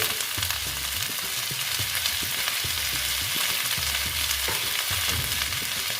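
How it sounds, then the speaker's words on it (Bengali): Pointed gourd and mixed vegetables sizzle in a pan as a spatula stirs them in repeated scraping strokes, the frying hiss constant and close throughout. "দিয়ে আবার একটু নেড়ে করে নিচ্ছি"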